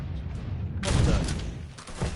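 Burst of gunfire in the crime game Mafia 3, a sudden loud volley of rapid shots erupting after a quieter rumble, then tapering off with a few trailing cracks.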